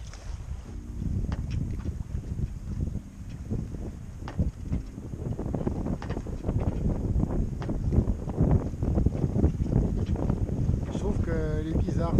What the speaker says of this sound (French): au large, il y a du vent.